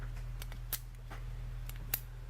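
Scissors cut through a coffee capsule with a series of short, crisp snips at irregular intervals, close and clear over a low steady hum.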